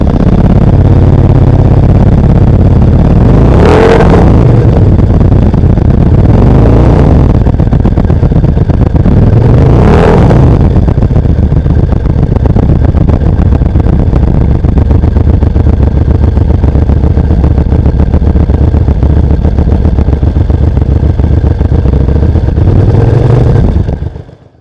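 A QJ Motor SRV 300 motorcycle engine runs loudly and steadily for the whole stretch, with several sharp throttle revs rising above the idle beat, the last one near the end.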